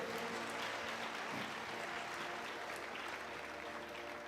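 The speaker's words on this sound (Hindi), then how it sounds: "ताली बजाओ प्रभु के लिए जोर से" A church congregation applauds during a sermon, dense steady clapping from many hands held at an even level throughout, with no speech over it.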